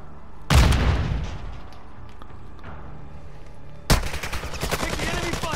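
Heavy gunfire in the video game Call of Duty: Warzone, two loud bursts of shots crackling over a steady background of game noise, the second volley sustained and rapid like automatic weapon fire.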